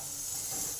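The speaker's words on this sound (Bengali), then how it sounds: "8 মিনিট পর ঢাকাটা খুলে দেখি। গাজরগুলো সব ভাজা হয়ে গেছে।" Sliced carrots and capsicum frying in an oil pan, a steady close sizzle and hiss with no talking.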